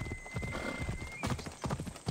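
A horse gallops in the video game Assassin's Creed Odyssey, its hooves clip-clopping in a quick, steady rhythm close by, with a brief whinny-like tone over the beat.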